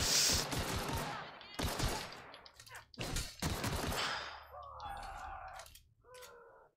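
Gunfire in The Outer Worlds video game: several loud, closely spaced shots and bursts from a firefight, followed by fainter in-game tones and a voice near the end.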